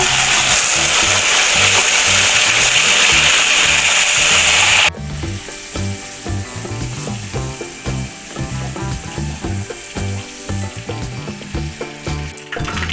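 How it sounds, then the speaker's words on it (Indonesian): Rimbang (pea eggplant) frying in hot oil, a loud dense sizzle that drops abruptly halfway, then continues as softer crackling with clinks and scrapes of stirring. "Lanjut kita goreng rimbangnya Bunda."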